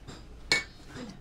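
A utensil stirring palitaw mixture gives a single sharp clink against a bowl, brief and close, with faint soft scraping around it.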